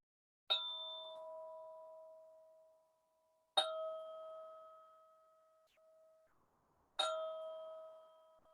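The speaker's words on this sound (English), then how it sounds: "I'm going to ring the bell 3 times." A meditation bell rings three times at steady intervals to close a Kemetic yoga session, each strike a clear bright ding that rings out and slowly decays in a quiet room.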